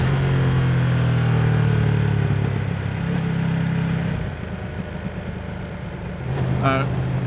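Ducati Streetfighter V2 motorcycle engine pulling hard in third gear on the road, a loud steady drone that eases off midway and then rises again, with someone talking over it.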